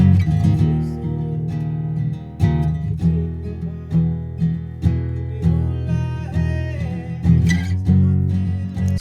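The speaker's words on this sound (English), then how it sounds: "And then we've got the guitar track" Guitar track played back alone, a steady run of plucked, strummed notes with a sustained bassy body and regular rhythmic accents, no talking over it.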